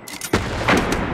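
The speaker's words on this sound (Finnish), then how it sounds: "Tossa vaan seisoo paikalla ammuskelee pistolla." Pistol gunshots in the World War II shooter Hell Let Loose, a quick volley of several sharp cracks with a heavier boom partway through, loud and close, no talking.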